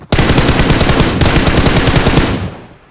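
An M4 assault rifle fires in long, rapid automatic bursts in a battle royale video game on the Nusa map. The loud, continuous rattle is close up and trails off at the end.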